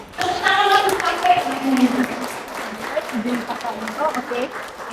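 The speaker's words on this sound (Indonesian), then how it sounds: "Mari kita kasih tepuk tangan yang meriah untuk Kak Nana." An audience applauding at a seminar-style gathering, a broad patter of many hands that stays fairly steady while a voice speaks over it.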